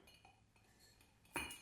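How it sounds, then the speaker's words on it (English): An ice cube drops into a cocktail glass for a scotch nightcap, giving a single bright clink near the end of an otherwise quiet moment. "we'll start off with our ice into our cocktail glass"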